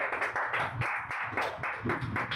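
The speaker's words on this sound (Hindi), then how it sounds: "ताली मारो।" Students applaud in a classroom, a steady run of quick, dense clapping filling the space for a couple of seconds with no voices over it.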